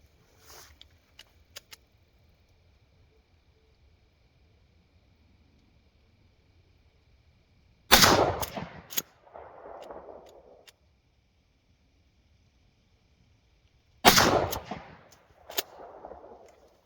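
A Mossberg 590 shotgun fires 2 3/4 inch Federal Premium Truball slugs outdoors, two loud blasts several seconds apart, each followed by a brief rolling echo and faint clicks.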